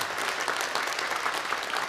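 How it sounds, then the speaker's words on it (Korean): Church congregation applauding during a Sunday worship service to welcome newcomers, a dense, steady burst of clapping from a large room, moderately distant and continuous. "우리 박수로 이분들 환영하도록 하겠습니다"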